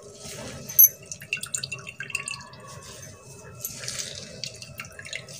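Fresh pomegranate juice being pressed out and pouring, with close wet drips, trickles and squelches in uneven bursts over a faint low hum.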